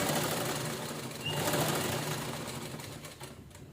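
A sewing machine runs steadily while stitching fabric pieces for a cushion cover made from leftover blouse fabric. It makes a continuous close-up whirring hum with no pauses, and no one speaks.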